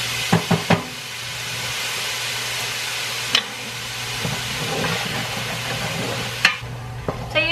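Onions tossed into a hot pan over turned-up heat give a steady, close frying sizzle with a few sharp clicks and scrapes of stirring near the start and again around the middle.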